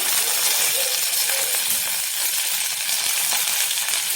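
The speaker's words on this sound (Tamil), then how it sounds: "கடுகு வெடிக்க ஆரம்பிச்சிச்சு" Mustard seeds crackling in hot oil along with fenugreek and a dried red chilli, tempering for idli sambar; a steady dense sizzle with scattered sharp pops throughout, close and continuous.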